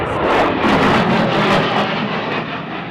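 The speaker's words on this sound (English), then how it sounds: "here comes Major Fulham from your right in the A-10 Thunderbolt II" A-10 Thunderbolt II jet roaring past at an airshow, a loud, steady broadband jet rumble with whooshing swells, sustained throughout and no voices over it.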